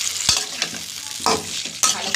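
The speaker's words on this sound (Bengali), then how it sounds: "ভালো করে এবার মশলাটা আমি কষিয়ে নিই।" Ground paste of ginger, onion, garlic and green chilli frying in oil, with a steady sizzle and three or four distinct scraping stirs of a spoon against the pan, close and clear, with no talk.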